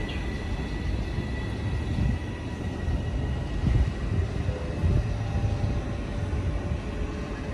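A train stands at a station platform on a Northern service, giving a steady low rumble and engine drone that holds at an even level throughout with no voices.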